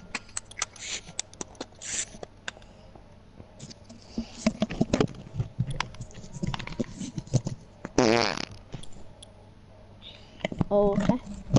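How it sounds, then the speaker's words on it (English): A single fart-like noise sounds during a gaming session, a brief buzzy burst standing out among keyboard clicks and background chatter. "Sounded like a fart."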